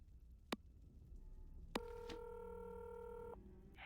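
In the Nancy Drew: Labyrinth of Lies game, a phone line answers faintly: two quick clicks, then a steady electronic dialing tone that holds for over a second and cuts off.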